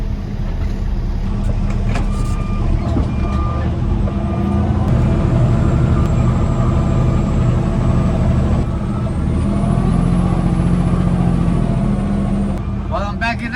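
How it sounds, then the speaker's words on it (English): A 2019 Kenworth super dump truck reverses on a bumpy dirt site, its diesel engine rumbling loud and close with hisses and rattles, while someone talks over it. "While I'm backing up, I'm looking at the flagger to tell me where to drive the truck so I can dump the dirt."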